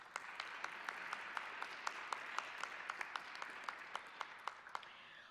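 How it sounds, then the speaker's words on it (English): Faint, distant applause from an audience at a memorial event fills the room evenly, a continuous patter of many hands with a few louder claps. "Give her another round of applause."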